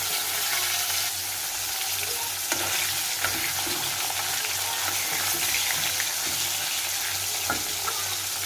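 Pieces of shol fish with turmeric fry in a pan, giving a steady, loud, crackling sizzle with occasional pops throughout.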